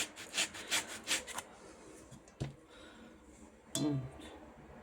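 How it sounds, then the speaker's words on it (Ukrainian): Orange zest being grated from a whole orange, several quick rasping strokes near at first, then sparse scraping and a couple of isolated knocks, quiet and close with no talking. "Натираємо сюди цедру повністю із одного апельсина."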